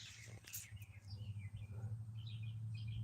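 Small birds chirp outdoors in scattered, faint tweets over a steady low hum, with no one speaking.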